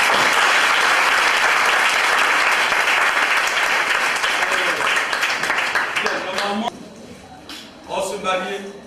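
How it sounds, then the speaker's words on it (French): An audience applauding at a Foursquare church youth day in Niangon: loud, dense clapping that runs steadily for several seconds, then thins out and fades as a voice speaks over the last of it. "Acclamez-vous une fois de plus."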